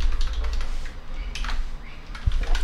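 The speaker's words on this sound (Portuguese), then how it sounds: "Tô digitando meu e-mail aqui." Rapid, steady clatter of fingers typing an email address on a computer keyboard, close and fairly loud, with a few harder keystrokes near the end.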